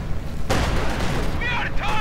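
A Sturmgeschütz assault gun fires on a T-70 light tank in the Company of Heroes 2 war game: one heavy, close cannon blast over steady battle noise, followed by a brief voice.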